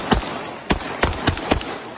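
Gunfire aimed at a Geran-2 attack drone over Ukraine: four or five sharp, loud outdoor shots in an uneven burst, each with a short ringing echo.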